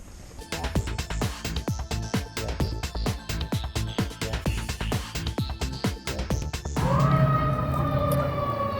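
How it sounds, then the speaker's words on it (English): Emergency sirens wail in the background near an RV park during a power outage, rising clearly at the end over a steady train of rhythmic clattering thumps in the foreground. "You might hear the sirens in the background there."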